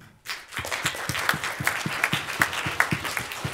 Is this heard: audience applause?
yes